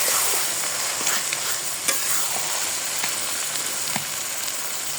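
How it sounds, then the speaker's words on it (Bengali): Chopped bottle gourd fries in a hot pan of spices with onion, garlic and egg, a bright continuous sizzle broken by scraping stirs of a spatula, close and steady with no talk. "এবার লাউটা দিয়ে দিলাম মশলার মধ্যে।"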